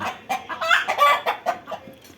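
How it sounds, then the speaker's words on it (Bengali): A hen clucks while laying eggs in a poultry loft above a rickshaw garage, giving a rapid string of close, insistent clucks and squawks over about two seconds. "এই মুরগিটা ডিম দিতেছে"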